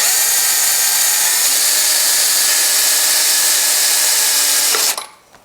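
A power drill bores a pilot hole for a scooter's rear disc brake kit, a loud steady whine held at constant pitch for several seconds before the motor cuts off and spins down.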